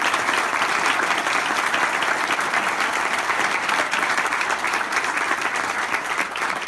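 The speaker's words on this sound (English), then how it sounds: "Please give them another round of applause." An audience applauds performers at a Fort Custer WWI centennial event in Michigan, a steady, full round of clapping from a sizable crowd, sustained and even throughout.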